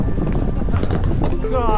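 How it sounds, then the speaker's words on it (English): Strong wind buffets the microphone with a loud, rough rumble throughout, and a person speaks briefly over it. "So windy."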